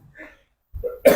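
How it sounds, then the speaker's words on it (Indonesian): A speaker gives a single short, sharp cough during an Islamic religious lecture. It comes at the very end after a near-silent moment. "Batuk dulu."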